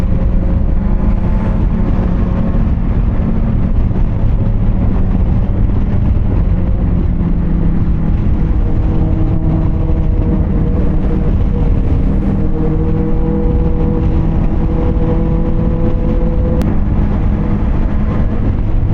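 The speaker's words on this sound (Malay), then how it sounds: "Oh banyak weh kereta." Heavy Christmas-holiday road traffic with many cars on the road, a loud, continuous rumble of engines and tyre and wind noise with steady droning tones and no pauses.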